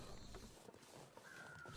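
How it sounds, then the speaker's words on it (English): Crows caw near a barn in the survival game The Long Dark, faint and distant calls over quiet ambient wind. "Those crows at the back of the barn are getting very noisy."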